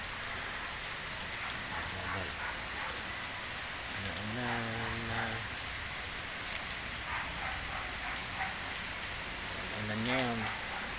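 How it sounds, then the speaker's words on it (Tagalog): Steady rain falling on surfaces outdoors, a constant dense patter throughout, with faint voices and a few brief tonal calls in the background. "Ulan ngayon."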